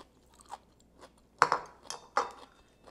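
Close, crisp crunches of someone chewing stir-fried bamboo shoots with chili pepper, a few distinct bites in a quiet room.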